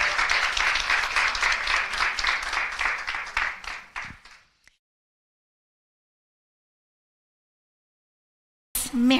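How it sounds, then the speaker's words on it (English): An audience applauds a speaker with loud, dense clapping that dies away after about four seconds, followed by silence and a brief burst of sound at the very end. "Mary, one more big round of applause."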